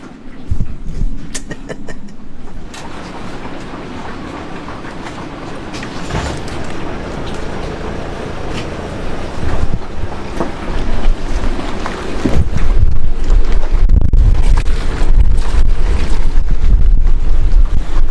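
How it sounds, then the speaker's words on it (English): A small boat's engine runs steadily on open water, a continuous low rumble mixed with wind buffeting the microphone, growing louder and rougher toward the end. "Let's check the engine. It's running very smooth."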